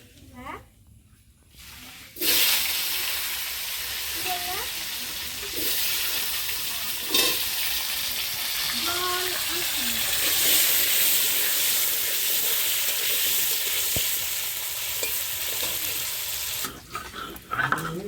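Potatoes frying in hot oil with black cumin seeds for a Bengali hilsa, aubergine and potato dish: a steady, close sizzle begins abruptly after a quiet start and holds throughout with occasional stirring clinks.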